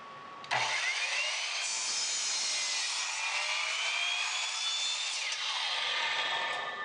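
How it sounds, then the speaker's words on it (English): A wooden board is cut with a power saw: after a brief low hum, the blade whines up loud and steady at close range for several seconds, with no talking. "and we're going to saw it."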